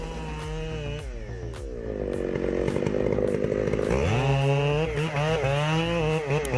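A big chainsaw cuts down a burning tree, its engine whining loud and close with rising and falling revs as the bar bites and eases through the wood.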